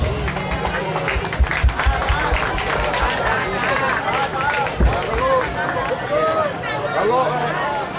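Crowd applause and cheering at an outdoor Betawi arts and culture performance, steady dense clapping mixed with crowd chatter and voices throughout.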